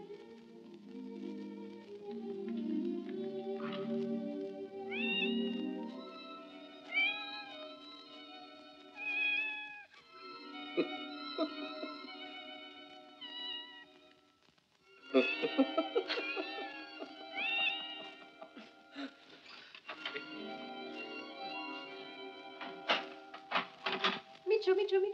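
A cat meows repeatedly in rising, drawn-out calls, some in quick succession, against a busy background with other sounds mixed in; a scene from a 1953 German spy film.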